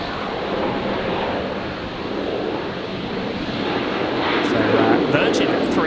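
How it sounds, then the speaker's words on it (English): A Virgin Boeing 737 landing at Brisbane Airport on arrival from Melbourne, a loud steady jet roar with broad rushing noise that swells slightly toward the end, as people talk over it. "The 73 just arriving from Melbourne."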